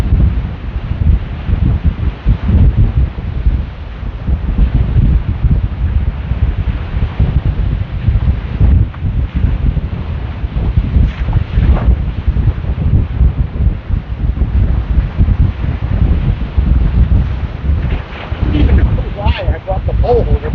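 Strong wind blows at a beach, buffeting the microphone with constant low rumbling gusts that rise and fall, and a person speaks over the noise.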